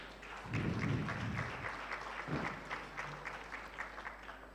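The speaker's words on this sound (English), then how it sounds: "Another round of applause for Shem" Applause at the FLEX2026 official opening, swelling early then tapering into scattered, fainter clapping, with a low steady hum beneath and a couple of soft thumps.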